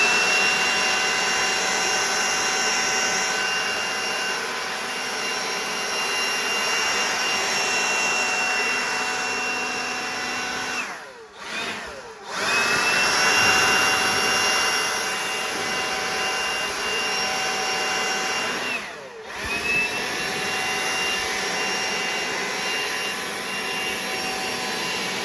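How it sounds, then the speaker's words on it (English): Air blower blasting dust out of a sawmill, a loud steady rushing roar with a strong whine that dips briefly twice as the airflow shifts, running throughout with no speech. "I'm gonna turn it on. You probably can't hear me, but this is really how long it takes to blow the dust and all out."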